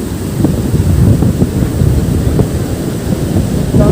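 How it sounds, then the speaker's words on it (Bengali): Morning waves roll onto the sea beach at Puri under steady wind buffeting the microphone, a dense, loud, continuous surf rumble with no voices. "এই দেখুন সকালবেলা সমুদ্র সৈকত"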